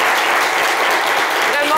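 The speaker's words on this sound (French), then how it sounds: "On vous applaudit." A television studio audience applauds in a steady, dense wash of clapping, loud and continuous throughout without a break.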